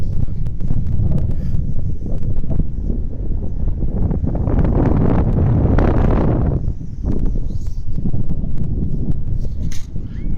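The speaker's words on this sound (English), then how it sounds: "Really high, kind of a high wind." High wind buffets the microphone at a sport kite flying field with a loud, constant low roar that surges into a heavier rushing gust midway, then settles back to steady blustering.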